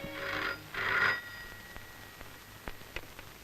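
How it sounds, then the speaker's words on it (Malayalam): A telephone bell rings in two loud, close bursts, then falls quiet except for a few faint clicks. "ഫോൺ ബെല്ലടിക്കാൻ തുടങ്ങി കുറെ നേരമായല്ലോ"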